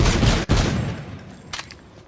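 Shotgun gunfire in Call of Duty: Infinite Warfare zombies mode: a loud, close blast with a sharp cutoff, followed by a second heavy shot and fainter trailing fire, with no talk over it.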